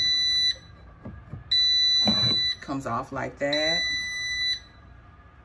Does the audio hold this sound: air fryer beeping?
yes